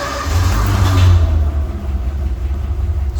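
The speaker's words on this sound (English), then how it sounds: "you'll even see how the car starts up with nothing on the gas pedal" A 1955 Ford Thunderbird engine cranks and catches without any throttle, settling into a steady low rumbling idle heard up close with no talking.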